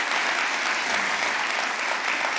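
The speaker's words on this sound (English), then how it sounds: "Give them a round of applause" Sustained, dense applause from a large audience at a Urban League address, even and continuous with no pauses or voices breaking through.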